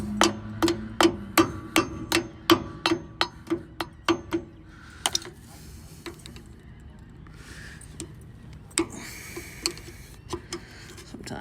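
A hammer drives a cotter pin through a trailer wheel spindle with the help of needle-nose pliers. About a dozen sharp, evenly spaced metallic blows ring out close by, followed by scattered lighter taps.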